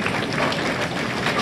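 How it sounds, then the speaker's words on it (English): Audience applause for the women bowlers on the squad at the 2014 BPAA Women's All-Star tournament, a steady dense wash of clapping sustained through the whole short stretch. "have a nice round of applause for the ladies on the squad."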